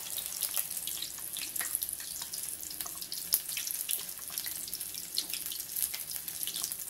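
Prawn fritter batter frying in hot oil, a steady, fairly quiet crackling sizzle with scattered sharp pops throughout, no voices.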